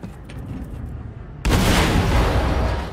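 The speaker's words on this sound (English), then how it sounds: "Achtung, Explosion in der Hangarbucht." A blast goes off in a hangar bay in the shooter Wolfenstein II: The New Colossus, a sudden loud boom after a quieter stretch, followed by a sustained roaring rumble that holds to the end.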